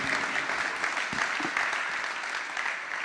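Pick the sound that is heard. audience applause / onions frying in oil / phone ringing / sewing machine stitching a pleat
audience applause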